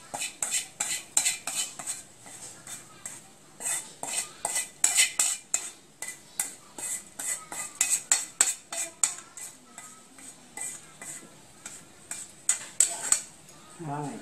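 Fried golden garlic tipped from a pan onto a plate, with a steady run of close metallic scrapes and clinks of a utensil against cookware, rhythmic and fairly quiet in a home kitchen.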